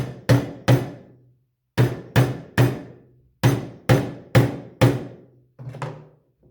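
Hammer driving nails into wooden birdhouse pieces, nine loud, close, ringing blows in short bursts of two and three, followed by a softer final knock.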